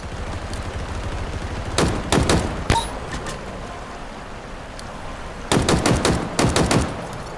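Halo Infinite gunfire in two rapid bursts of shots, one early and one late, loud over a steady low game-ambience rumble, with no talking.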